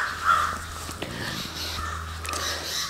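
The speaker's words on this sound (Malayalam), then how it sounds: "കിളികളുടെ എല്ലാം നല്ല സൗണ്ടുണ്ട് കേട്ടോ" Crows cawing outdoors, with one clear caw near the start and fainter bird calls continuing against a low steady background hum, moderately distant.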